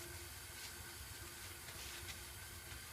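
Tap water running steadily into a sink during hand washing before a dressing change, a constant close hiss that fills the whole stretch without pause.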